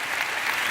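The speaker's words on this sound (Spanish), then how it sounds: "Es un aplauso por estar acá." Sustained applause from a church congregation fills the moment, a dense, even wash of clapping with no pauses, moderately loud and without speech.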